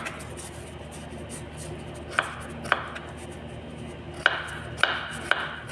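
A kitchen knife cuts through tomatoes on a board for a vegetable salad, giving five crisp chops at uneven intervals, close and fairly quiet against a faint background hum.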